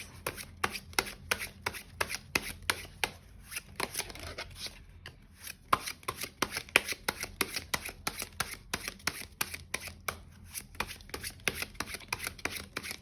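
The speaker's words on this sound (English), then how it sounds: "while I was shuffling my cards" Tarot cards are shuffled close and soft in a fast run of crisp slaps and riffles, briefly pausing midway before carrying on, with no talking.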